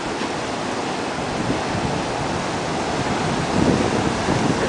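Huge ocean waves break on a sandy beach at Playa Las Penas, Mexico, as a loud, continuous roaring wash of surf that swells near the end, close by and with no talking.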